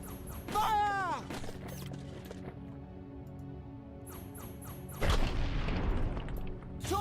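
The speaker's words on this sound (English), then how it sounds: "Torpedoes away!" Torpedoes launch from a ship in the naval game Treasure Planet: Battle at Procyon, with a whooshing, swooping sound, then a lull and a loud, rumbling explosion, under faint game noise and occasional voice.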